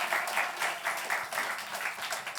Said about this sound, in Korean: 또 새날을 주신 하나님께 감사와 영광의 박수를 올려드리겠습니다.